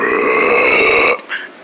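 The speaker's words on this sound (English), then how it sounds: "I just burped 2 times from the water and the food." A single long, loud burp after drinking water and eating breakfast, close by and sustained for about a second, then a short softer trailing gulp.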